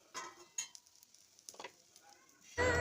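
Aloo 65 potato pieces frying in a pan, with short bursts of sizzling and stirring scrapes spread across a few seconds and a louder clatter at the end.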